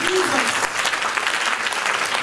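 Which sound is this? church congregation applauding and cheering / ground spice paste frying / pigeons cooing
church congregation applauding and cheering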